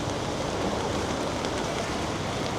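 Steady, dense rain pours continuously over flooded España Boulevard in Manila near UST, its broadband hiss unbroken and close with no gaps or pauses throughout.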